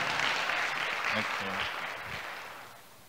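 Church congregation applauding to welcome the interpreter, an English-ministry pastor, a moderate wash of clapping that slowly fades, with brief voices murmuring in the middle.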